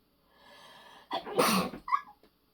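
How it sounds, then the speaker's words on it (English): A single sneeze, preceded by a soft breath in and ending in a short sniffly snort, close and fairly quiet. "I'm gonna sneeze."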